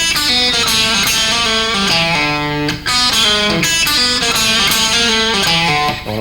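A guitarist plays a short blues lick on a distorted electric guitar, gliding between notes with a slide, loud and close, with sustained ringing tones and a brief gap near the middle.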